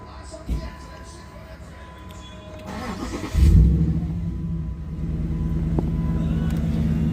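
A Jeep Commander with a 6.4 Hemi V8, fitted with a swapped intake manifold and a 180-degree thermostat, idles with a steady low rumble that swells into a louder, sustained drone after a brief rev about halfway through.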